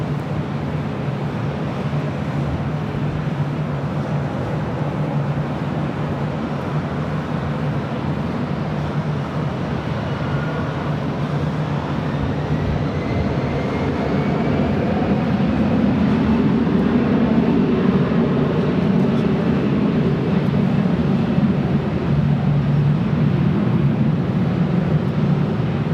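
A Delta airliner taking off from runway 24 left at LAX, its jet roar heard from a distance, a broad rumble that builds and swells midway under steady wind noise.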